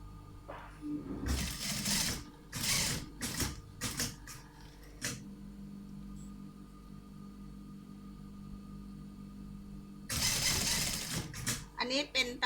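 A sewing machine stitching a fabric cover in a tailor's repair shop, several short rattling bursts of stitching separated by pauses, with someone talking quietly between runs.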